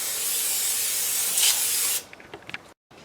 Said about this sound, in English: we'll take some brake clean and clean the whole surface down